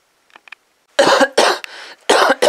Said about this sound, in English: You have a cough, dude.